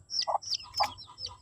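A newly hatched chick near its hen gives a few high, thin chirps and peeps in short bursts, close and fairly soft, over a low steady background hum.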